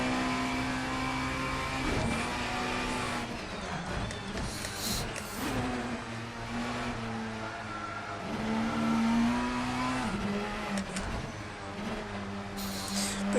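A front-wheel-drive touring car from the VRC Tourers Pack runs a lap in Assetto Corsa, its engine droning steadily near and loud, pitch rising through the gears with brief dips at each shift and corner.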